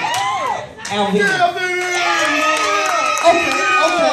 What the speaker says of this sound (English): the table that you came from better cheer like Michael Jackson and James Brown just walked through the booth